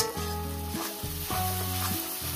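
Grated ginger sautéing in a pan for a Bengali fish-head moong dal cooked without onion or garlic gives a close hiss with rhythmic scraping stirs, while steady musical tones run underneath.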